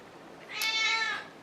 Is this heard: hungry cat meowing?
yes